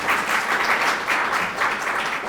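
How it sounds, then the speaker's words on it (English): A short burst of applause from a lecture audience, moderately loud and even, with dense clapping that stays steady across the whole moment. "how about a hand of applause for all?"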